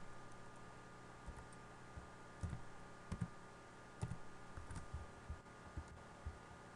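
A password is typed on a computer keyboard in a quiet room, producing a sparse run of soft, close key clicks with uneven gaps, some taps landing in quick pairs, over a faint steady hum.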